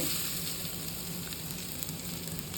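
Grated coconut is lightly sautéed on low heat, giving a soft, steady sizzle that is faint but even from start to finish.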